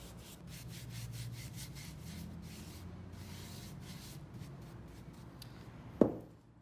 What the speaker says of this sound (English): I'm also going to apply wax to the top to seal our Jolie paint.